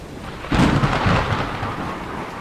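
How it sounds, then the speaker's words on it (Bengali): A sudden deep thunderclap bursts in, then rumbles and slowly fades over a soft rainy hiss. "বাইরে প্রচণ্ড শব্দ করে একটা বাজ পড়ল"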